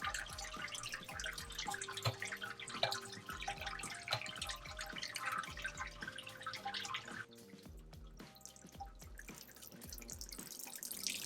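Sparge water drips and trickles steadily through grain in a Grainfather G40 all-grain brewing system during a beer brew day, a soft continuous patter that is quiet and close.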